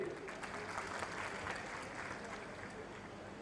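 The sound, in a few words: audience applause for the camera and sound team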